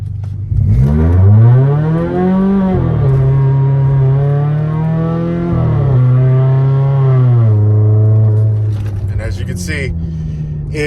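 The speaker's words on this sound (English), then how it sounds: "I'll give you guys like a little launch of what it kind of looks like with paddle shift on sport here." A Chrysler 200 engine revs up hard from a stop in sport mode, pitch climbing through quick paddle-shifted gear changes as it accelerates loudly and close by.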